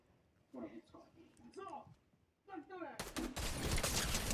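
Rapid bursts of video game gunfire crash in loudly after a stretch of talk, dense and sustained through the last second and a half.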